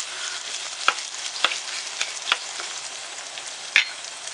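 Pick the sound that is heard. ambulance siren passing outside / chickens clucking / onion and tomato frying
onion and tomato frying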